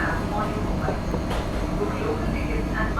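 A Mumbai slow local train running on the neighbouring track gives a steady, close rumble and rattle of wheels and carriages throughout, with faint voices underneath.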